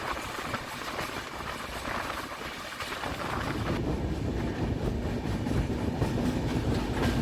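Darjeeling Mail express running on rails between Sealdah and New Jalpaiguri, a steady loud rumble of wheels and carriage with faint clickety-clack and wind buffeting, heard continuously with no talk.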